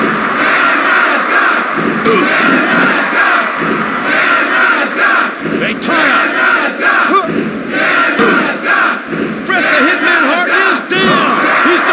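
A capacity arena crowd in the PlayStation wrestling game WWF War Zone roars and cheers continuously and loudly, with shouts rising and falling throughout.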